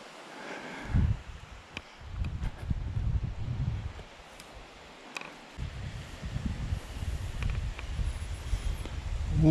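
Gusty wind outdoors by Big Piney Creek, low blustery rumbles buffeting the microphone in uneven surges with quieter gaps between, fairly faint overall.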